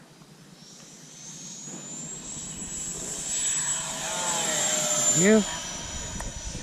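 A Freewing F/A-18C Hornet 90mm RC jet takes off, its ducted fan whine swelling steadily from moderate to loud, with a rising Doppler sweep as it passes near the end; a voice speaks briefly over it.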